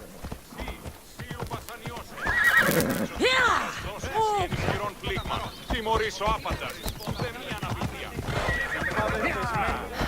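A horse whinnies loudly and hooves clop nearby in Assassin's Creed Odyssey, with someone speaking over it and a short shout partway through.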